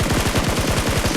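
Rapid bursts of gunfire from a shooting video game where a sniper is present, about a dozen evenly spaced loud shots packed into a second.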